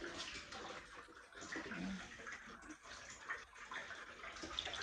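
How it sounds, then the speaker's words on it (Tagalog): Water rushing steadily from a tap into a pot, a constant splashing hiss, fairly faint and close. "Punuin ko yan ng tubig."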